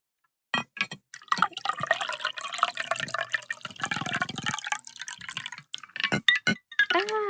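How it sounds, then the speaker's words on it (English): Rum is poured into a glass: irregular splashes and trickles, dripping and liquid gurgling, with glassy clinks and a few sharp knocks, close and fairly loud over several seconds. "I'm going to go ahead and pour my drink"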